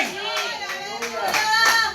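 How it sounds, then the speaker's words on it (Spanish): Congregation at a church service applauding together, a dense crowd clapping with bright sharp bursts that swell louder toward the end, with a voice faintly mixed in. "Dale el aplauso si se lo vas a dar, pero dáselo con fuerza"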